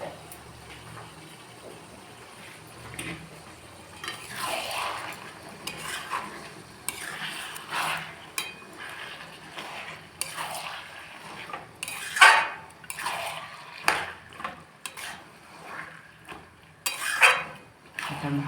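Mutton pieces for onion-stuffed keema fry in a pan while being stirred, with scraping spoon-on-metal clatter and sharp clinks rising over a soft steady sizzle, no talking.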